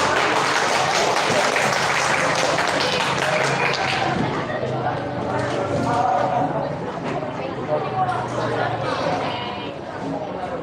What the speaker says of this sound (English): Okay, give applause for participant number 14.